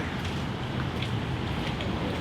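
Steady rain falling outdoors in the city, a faint, even wash of hiss and patter heard on its own with no voices.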